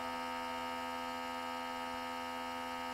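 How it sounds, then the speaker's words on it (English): A vacuum marinade tumbler machine pulls a vacuum, making a steady close electric hum with a buzzing motor tone that stays even for the whole stretch. "Right now it's pulling a vacuum."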